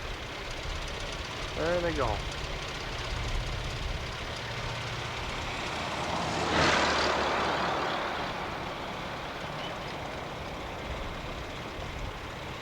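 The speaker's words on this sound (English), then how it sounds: "She wants to have this train." A freight train pulled by three locomotives passes in Montana, heard as a faint distant rumble with a brief horn-like tone early on, then a swelling roar in the middle that fades away, under quiet talk.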